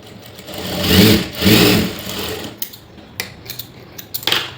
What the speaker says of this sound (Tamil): இப்போ கீழே இன்னொரு தையல் போட்டுக்கோங்க